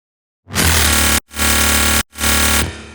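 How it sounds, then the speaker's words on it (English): Three long, bright, buzzing synth bass notes played in succession, loud and harsh with little low-end weight, separated by brief gaps. "Without the sub, it sounds like this."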